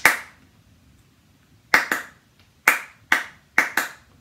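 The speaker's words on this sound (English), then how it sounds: "They just clap that over and over." Hand claps ring out sharply and close by, with no other sound: a single clap, a pause, then three quick pairs of claps in a steady repeating rhythm over quiet background.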